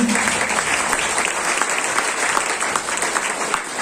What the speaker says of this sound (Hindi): बहुत जोरदार तालियों से